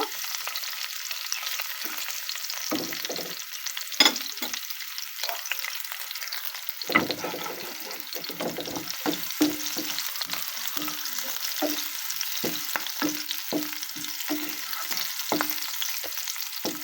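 Hot green bird's eye chillies sizzle in oil as they fry until reddened for a pumpkin flower and egg fry, with a steady crackle throughout and occasional louder spatters and stirring knocks.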